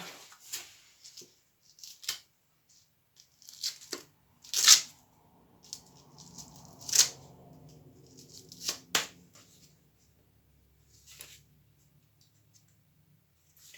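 Handling sandpaper while sanding a wooden board: paper rustles and crinkles in short bursts, with scattered sharp scrapes and taps close by; no talking.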